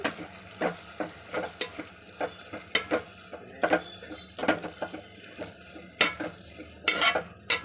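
A spoon repeatedly scrapes and clinks against a pan while stirring chili powder into a broad bean curry with tomato, irregular metallic taps and scrapes close by over a faint simmer.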